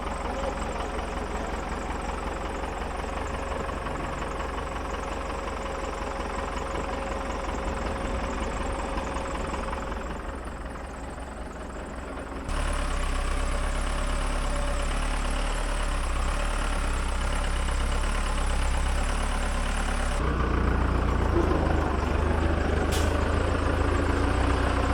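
An old wrecker truck idles and grinds slowly up a narrow off-road trail, its engine a loud, steady rumble that shifts in tone partway through as the clutch is feathered, with no talking.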